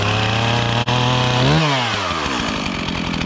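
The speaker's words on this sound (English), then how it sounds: "You're going to watch your chainsaw start" A chainsaw roars at full throttle, then its pitch dips and recovers as the engine settles into a loud, steady idle, close by with no voices.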